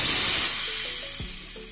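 A pressure cooker boiling baby potatoes lets off steam through its whistle, a loud, steady, close hiss that thins and fades a little over under two seconds.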